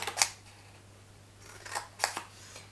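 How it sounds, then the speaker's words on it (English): Scissors snip notches into a black paper gift bag with a flower patch, giving a few short, crisp cuts spaced apart, one early and a pair later, fairly close and quiet with no talk. "You need to cut and notch both of those."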